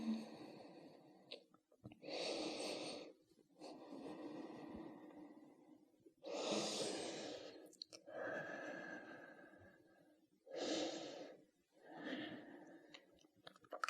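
Slow, deep breaths during a yoga stretch in a flexibility flow, with long audible inhales and exhales alternating in an even rhythm, close and fairly quiet with no other sound.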